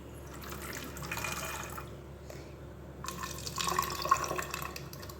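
A salt cleaning mixture is poured in a thin stream into plastic water bottles, trickling and splashing in two short bursts separated by a pause, close and moderately quiet.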